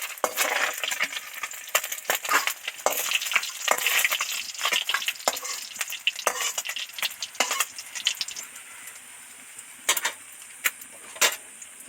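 Small mourala fish frying in hot oil in a pan, a dense, steady crackling sizzle with sharp pops and occasional clinks of a utensil, close and loud, thinning out toward the end.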